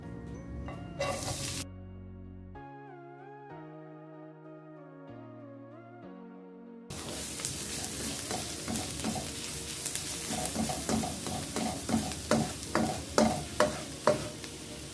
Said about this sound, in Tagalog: Mag-a-add tayo ng a little bit of oil. And then let's saute our onion.